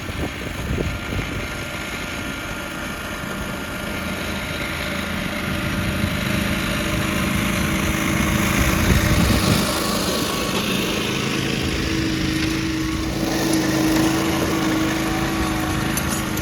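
A John Deere 425 garden tractor drags a harrow across bare garden dirt, its small engine droning steadily at a moderate distance, swelling slightly as it works and turns.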